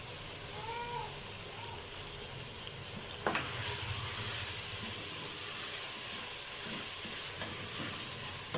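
Chicken bones being sautéed in a pot for chicken shorba, a steady soft sizzle and hiss of frying that swells louder partway through, with a faint stir or clink.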